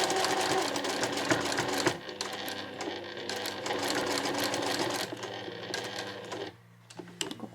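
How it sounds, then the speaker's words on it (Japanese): Domestic sewing machine stitching cotton fabric for a two-tone shoulder bag, loud close whirring in a long run with short pauses, then quieting near the end. "縫い目をここまで重ねて縦に縫い留めるような感じにしてみようと思います"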